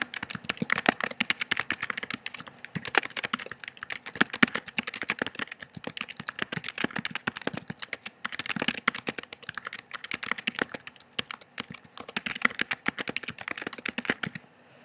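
Steady computer-keyboard typing, a dense run of quick clicking keystrokes that continues evenly throughout at close range, with short pauses between bursts and no talk.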